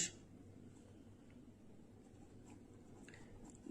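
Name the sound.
writing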